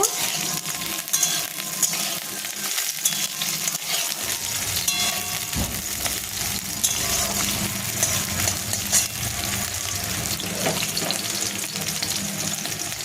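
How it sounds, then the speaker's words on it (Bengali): Oil sizzles and crackles steadily as pieces of green banana fry in a pan for shukto, with occasional scraping and stirring. "কাঁচকলাগুলোকেও লাল লাল করে ভেজে নেব"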